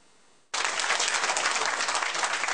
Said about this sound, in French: Des applaudissements nourris pour Yukiya Amano.